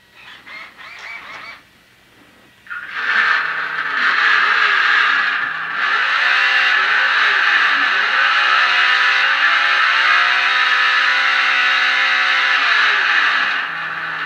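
Simulated engine sound from a Traxxas UDR RC truck's installed onboard audio speaker at full volume, a loud droning whine that climbs in pitch and drops repeatedly as it runs through the gears, after a few short bursts at the start.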